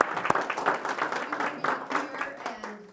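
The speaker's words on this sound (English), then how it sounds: "so a round of applause." A small gathering at a morning event with city council candidates, hosted at a Christian community home, gives a short round of clapping, loose and uneven, with a few voices mixed in as it tapers off.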